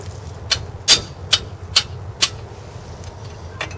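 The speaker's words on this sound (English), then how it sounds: "It might help if I put the hammer on the other side." A hammer strikes metal while brake pads are changed on a car, five sharp close clanks at irregular half-second intervals, then a couple of fainter knocks.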